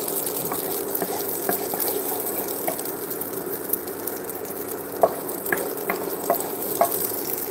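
Food sizzles in a heated frying pan, a steady hissing crackle with scattered small pops and clinks, moderately quiet and without talk.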